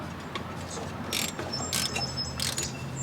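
A ratchet tightening a bolt on an abandoned LT1000 lawn tractor under repair, giving bursts of quick metallic clicking in short runs, close and moderately loud, with no speech.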